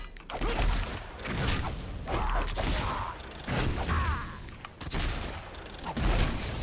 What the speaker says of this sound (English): Grenades, more grenades.